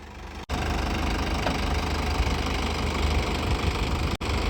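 A New Holland 5630 farm tractor idles in hot weather with a 32-disc harrow, giving a steady, close mid-low engine rumble with a knocking texture that runs unbroken apart from two brief dropouts.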